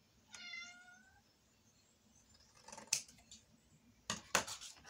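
A female cat meows once, a short close cry, followed by quieter rustling and sharp snipping clicks in a quiet room.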